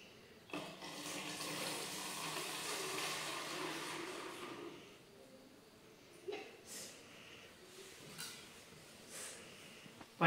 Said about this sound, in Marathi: या हाताने धुतलेलं जे पाणी आहे या दुसऱ्या भरणीमध्ये आपण टाकणार आहोत।